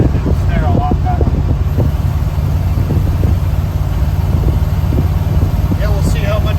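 A 1971 Ford F250 truck that sat nine years, driving with a low, steady engine rumble and loud wind and road noise up close, with voices talking over it.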